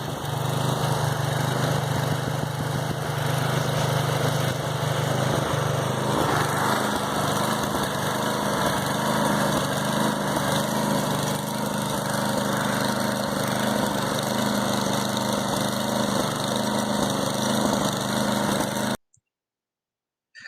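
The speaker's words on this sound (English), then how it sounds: "So that was the late 80s Craftsman snowblower cold start." A late-1980s Craftsman snowblower engine runs after a cold start, a loud, steady small-engine drone close by that cuts off abruptly near the end.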